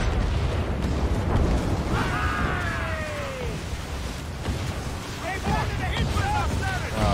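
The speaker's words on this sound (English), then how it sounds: "accidentally went right into the mortars" Mortar explosions pounding a ship during a naval battle in Assassin's Creed Rogue, a continuous heavy rumble of blasts and booms with voices calling out in the middle and near the end.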